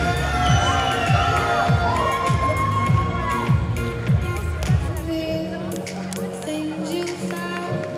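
Crowd cheering and shouting at a Musclemania bodybuilding show in Paris as a contestant is welcomed, a dense sustained roar with whoops and an announcer's voice over it, easing slightly toward the end.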